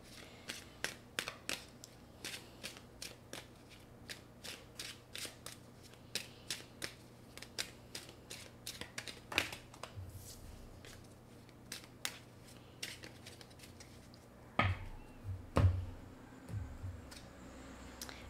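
Playing cards shuffled and drawn from a deck, a quick run of crisp riffling flicks and taps close up, then a few louder slaps near the end, alone with no talk.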